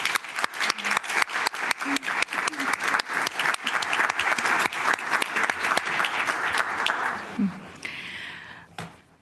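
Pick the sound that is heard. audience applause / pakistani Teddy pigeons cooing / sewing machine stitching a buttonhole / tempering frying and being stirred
audience applause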